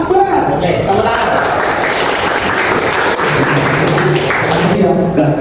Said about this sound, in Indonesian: Langsung tepuk tangan saja untuk apa? Oke, tepuk tangan.